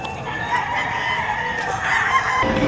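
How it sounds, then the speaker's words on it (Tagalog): Chickens and roosters at a Padre Garcia, Batangas livestock auction market, a steady dense din of clucking and crowing from many birds, fairly loud and continuous throughout with no talk. "Napakarami pa rin manok na pwedeng pagpilian."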